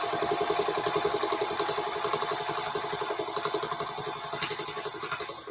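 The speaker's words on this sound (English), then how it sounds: "And what I'm doing is sewing the seam closed." A sewing machine runs steadily while stitching the seam of a large fabric hobo weekender bag, with a fast, even mechanical chatter close by that continues throughout without talk.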